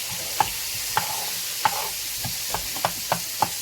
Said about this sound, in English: while my seafood is cooking,